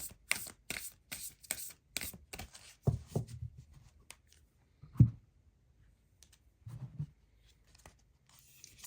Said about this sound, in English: I want to first bring out your Lightworker oracle cards.